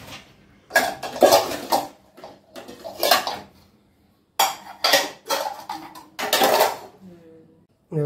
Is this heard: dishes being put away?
yes